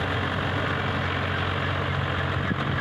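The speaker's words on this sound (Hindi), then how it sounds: "महिंद्रा DI ट्रैक्टर है।" Mahindra DI tractor diesel engine idling while working a farm field, a steady loud low rumble with an even throb that holds throughout.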